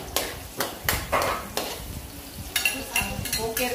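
Garlic and onion stirred in a pan while chicken cooks, a utensil scraping and clattering in about eight distinct strokes over a light sizzle, close and fairly loud.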